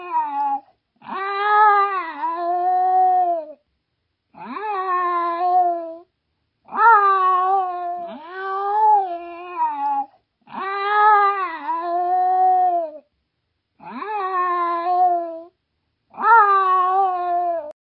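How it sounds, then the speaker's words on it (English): A cat lets out a series of about seven long, drawn-out groaning meows, each a loud, close wail separated by short silences. "Again, Charlie the cat groaned"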